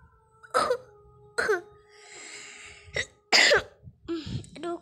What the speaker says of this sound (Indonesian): aduh kok batuk ya.